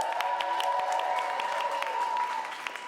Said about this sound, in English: can we keep that round of applause going for our runner-up